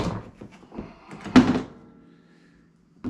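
Hard-shell Eylar rifle case for an AR-10 being opened: a few soft plastic clicks and rustles, then one sharp thunk as the latch or lid releases, followed by fading creaks and near-silence.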